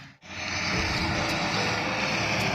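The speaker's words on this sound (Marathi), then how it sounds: "पाचट कुटी अशा पद्धतीने चालू आहे तर मल्चरण यंत्र म्हणतात त्याला" An 80 hp tractor-driven mulcher shredding sugarcane trash in a field, a loud steady roaring drone that starts after a brief dip and holds continuous, broadband and close throughout.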